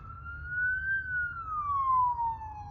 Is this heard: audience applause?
no